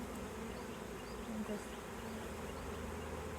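A swarm of honeybees that has settled in a tree beside a bee yard gives off a dense, continuous buzzing hum, steady and close throughout.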